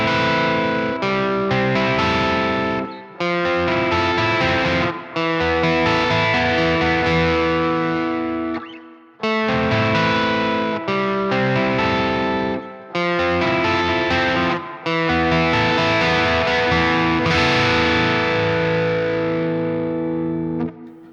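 Electric guitar played through the Bogren Ampknob amp plugin on a crunchy clean tone with added reverb, sustained chords and arpeggiated phrases ringing out loud and alone, with short pauses between passages.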